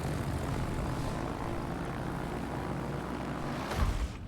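Propeller aircraft engines drone from fighters and torpedo bombers in the World of Warships video game, a steady, loud, continuous buzz with a brief swell near the end, with no talk over it.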